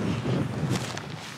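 Cold wind gusts hard across the open summit of the Mendip Hills in Somerset, a loud, close rush of wind buffeting the microphone throughout, with no voice.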